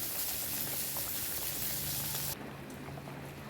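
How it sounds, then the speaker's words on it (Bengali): Fish curry (macher jhol) bubbling in a pot, a steady close hiss of boiling that drops slightly in level partway through, with no talking. "এখানে আমার শাশুড়ির জন্য মাছের ঝোল রান্না হচ্ছে, প্রায় হয়ে এসছে, আর একটু সময় ফুটিয়ে নামিয়ে নেবে।"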